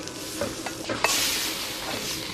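Steady hissing sizzle of onions stir-frying over high heat in a hot pan, with a few soft scraping stirs near the start before the sizzle swells.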